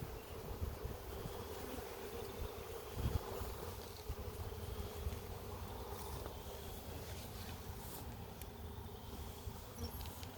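Honeybees drone in a continuous low hum while hive frames are lifted and inspected at Wildlife Prairie Park, with occasional light handling bumps and no talking.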